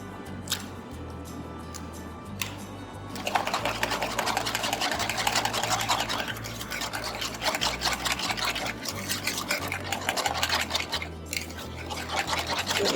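Egg being beaten into mashed banana batter for a banana loaf, most likely with an electric hand mixer, a steady motorized whir running nearly throughout, with a brief pause near the start.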